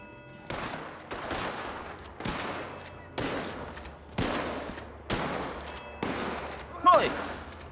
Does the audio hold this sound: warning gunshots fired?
yes